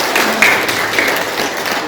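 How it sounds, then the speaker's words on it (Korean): A church congregation claps together in celebration during a service, a dense, steady spatter of applause that holds at a fairly even level throughout. "네, 박수로 축하해 주시기 바랍니다."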